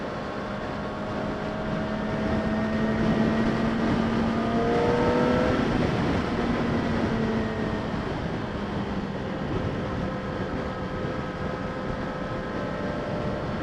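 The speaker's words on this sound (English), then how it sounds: "The engine must have a very small stroke, so it can attain that high RPM, but it's so smooth." A 2016 Yamaha R6 motorcycle engine drones smooth and steady at high RPM while riding, with a constant whine and a pitch that shifts only slightly under heavy wind rush.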